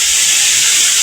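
Beef pieces dropped into a hot kadai give off a loud, steady steamy sizzle and hiss that lasts about a second with no break.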